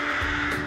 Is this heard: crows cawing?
yes